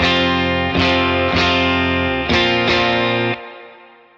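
Electric guitar through a Victory VC35 Copper amp with mid boost engaged, several loud distorted strummed chords ringing one after another before cutting off into silence.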